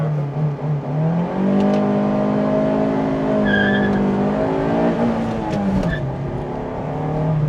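A car engine revs loudly and holds high at about 4500 RPM, then drops and surges as the car launches, with a brief tire squeal near the end.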